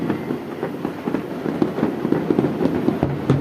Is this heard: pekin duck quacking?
no